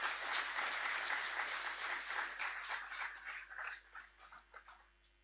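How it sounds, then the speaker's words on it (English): Applause for a student at a secondary school graduation ceremony, a fairly faint crowd clapping that starts full and thins into scattered individual claps toward the end. "Let's give him another round of applause."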